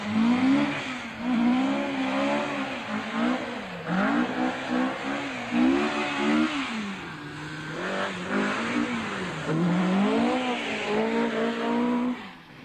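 Rally cars, including a Saab Turbo, race along a tarmac spectator stage at Bewdley Safari Park during the 1978 Lombard RAC Rally, engines revving up and down in loud, close, continuous passes with shifting pitch and no talk.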